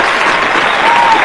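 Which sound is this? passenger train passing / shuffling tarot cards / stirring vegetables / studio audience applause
studio audience applause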